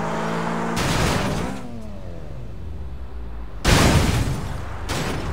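In the video game Triad Wars, a car drives around Hong Kong: a steady engine drone with rising revs, then a sudden loud burst as the car lands from a jump, the motor running on afterward.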